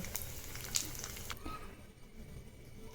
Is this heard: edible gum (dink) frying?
yes